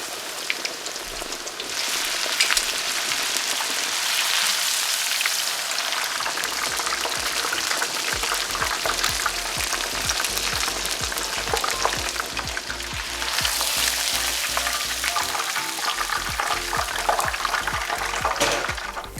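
Breaded pork cutlet frying in hot oil, a steady, dense crackling sizzle like rain that stays close and loud throughout, with faint clinks of a utensil.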